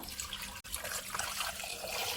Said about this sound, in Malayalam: അത് വേഗാൻ ആവശ്യമായിട്ടുള്ള വെള്ളം ഒഴിച്ചു കൊടുക്കുക